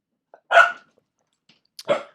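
A puppy barks twice, short sharp yips separated by a pause, close and clear against silence.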